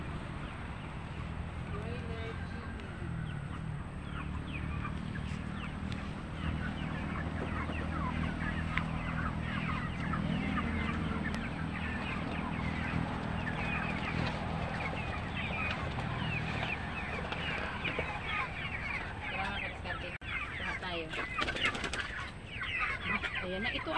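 A crowd of broiler chickens clucks steadily throughout, with a voice talking over the flock and occasional wing flapping.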